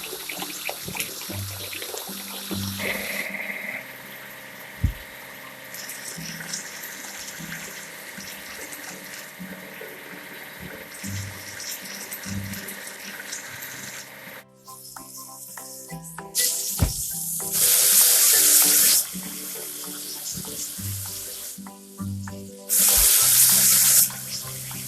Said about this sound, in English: Now let's wash the crane with cargo bed.